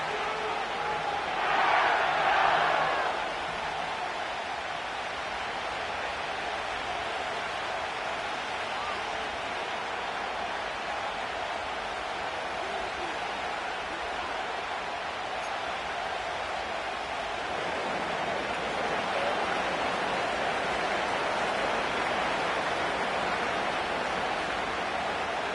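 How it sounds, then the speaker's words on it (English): Stadium crowd noise from the Madden NFL video game at SoFi Stadium in Inglewood, a steady, broad, distant roar of a packed crowd with a brief swell near the start, continuing evenly throughout. "The crowd is definitely ready"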